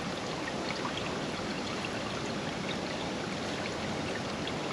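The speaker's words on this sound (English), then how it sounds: "pour the tea into our watering can" Compost tea poured into a watering can makes a steady, continuous splashing rush of liquid, fairly loud and unbroken throughout, with no voices.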